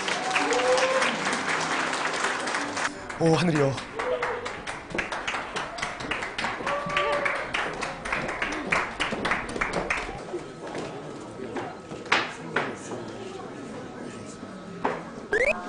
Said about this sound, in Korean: 우리 모팀 공연 박수로 맞아주시기 바라겠습니다